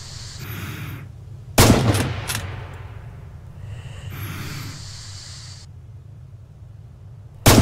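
Rifle gunfire in the World War II shooter Red Orchestra 2: Heroes of Stalingrad, two loud, sharp shots several seconds apart over a low ambient rumble and some quieter distant noise.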